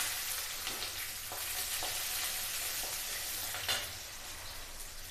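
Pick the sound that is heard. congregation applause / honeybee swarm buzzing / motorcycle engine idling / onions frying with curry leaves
onions frying with curry leaves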